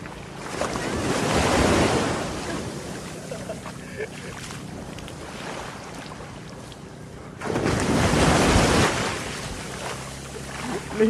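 Ocean waves surge onto the shore at a beach moto camp, two loud breaking rushes with a quieter wash between them, mixed with wind buffeting the microphone.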